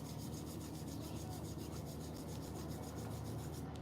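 Palms rubbing briskly together in a continuous dry, rasping friction sound during a Hastamardhan yoga hand warm-up by the marina, close and steady without pauses or talk.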